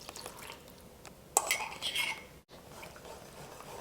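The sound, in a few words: mixing waffle batter in a bowl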